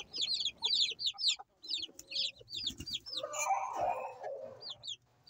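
Several pet chickens cluck and chatter in short repeated bursts, fairly close, with a louder squawk or crow in the middle.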